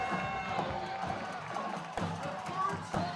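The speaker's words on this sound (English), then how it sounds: "And this crowd's alive." A crowd at a Winton Woods high school Friday night football game roars and cheers steadily from the stands, broad and sustained with brief surges, with voices audible in the mix.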